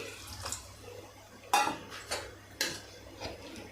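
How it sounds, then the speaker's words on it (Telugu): Spoon stirring bisibelebath, a Karnataka-style rice dish, in a metal pot: a few soft scrapes and sharper clinks of metal against the pot at irregular intervals, close and fairly quiet. "ఇప్పుడు ఈ విధంగా మొత్తం కలిపేసుకోండి"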